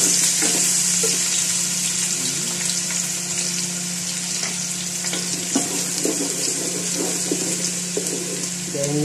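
Chopped garlic sautéing in a hot pan for a homemade soup noodle dish (pancit), with a steady, loud sizzle and scattered clicks of a utensil stirring, no voices.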